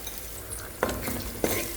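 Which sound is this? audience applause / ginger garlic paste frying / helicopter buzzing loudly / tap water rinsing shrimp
ginger garlic paste frying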